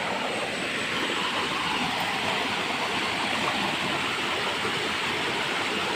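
A flooded creek on Dr. Jose P. Rizal's land rushes in a dense, unbroken roar of flowing water, close and loud throughout with no voices.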